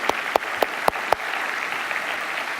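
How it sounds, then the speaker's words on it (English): Audience applause closing a summit plenary session wrap-up: a few sharp, separate claps first, then a steady wash of clapping from a crowd that holds evenly to the end, with no talking. "let's give a round of applause for everybody that's contributed to this summit this year"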